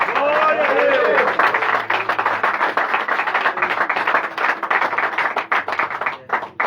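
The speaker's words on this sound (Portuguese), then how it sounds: "Dê uma salva de palmas ao Senhor por isso." A church congregation applauds in dense, steady clapping that carries on for several seconds, loud and close, with voices mixed into the crowd noise.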